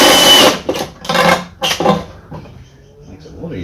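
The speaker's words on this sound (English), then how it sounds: "That's enough power tools for the day." A power tool working on a Barbie bus motor home being converted into a nitro remote-control RC bug runs in loud, short bursts over about two seconds, then stops, with people talking nearby.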